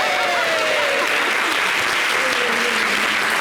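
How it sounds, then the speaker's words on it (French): Audience applause at a Miss pageant segment of a television show, loud, dense and continuous clapping filling the whole stretch with no voices on top. "Applaudissez pour Olivia."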